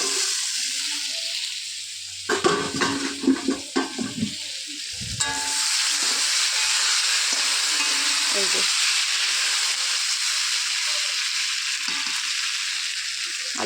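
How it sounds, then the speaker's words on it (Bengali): Potatoes frying in oil for a fish curry crackle and sizzle steadily up close, with a burst of clattering stirring early on, and the frying continues as a constant hiss throughout. "এখানে আলুটা ভাজা বসিয়েছি মাছের ঝোলের জন্য"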